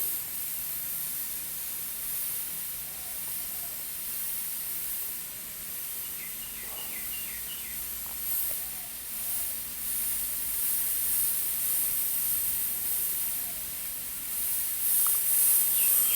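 An airbrush sprays paint onto a driver's helmet, giving a steady, even hiss that runs unbroken throughout, with faint clicks and handling noises in the background.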